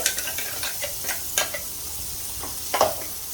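Spice masala frying on a low flame for Nashik-style vajdi, a soft crackling sizzle punctuated by a few brief stirring clicks and scrapes, close and fairly quiet.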